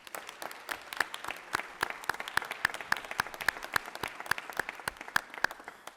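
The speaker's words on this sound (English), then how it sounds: "Let's give them a round of applause." An audience at a Georgia Tech event applauds its leaders with a sustained round of hand claps, a dense, even patter of many people clapping at moderate distance.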